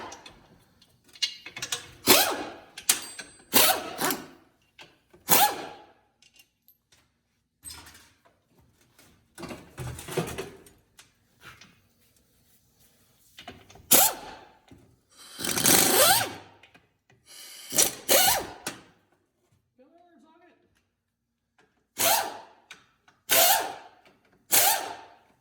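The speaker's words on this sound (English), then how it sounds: "We're gonna take the front cover bolts out." A ratchet works the front cover bolts off a T56 transmission in short bursts of rapid clicking separated by quiet pauses, close and fairly loud.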